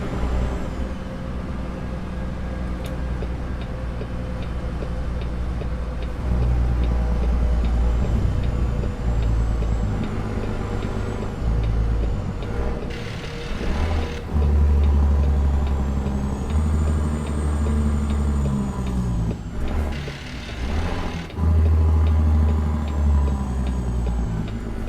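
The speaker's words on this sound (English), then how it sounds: "Are we happy with a bit of wind and truck sound," Steady truck engine drone and road noise with rushing wind while driving in the American Truck Simulator game, continuous and fairly loud throughout, with occasional brief hiss bursts like air brakes.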